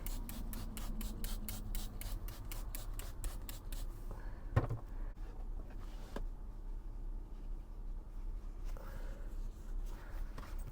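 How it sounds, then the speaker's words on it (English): A hand spray bottle mists water onto hair inside a camper van. About fifteen quick, even spritzes come in fast succession, then a single sharp knock and soft handling sounds follow, close up and moderately loud. "I just spray it with water."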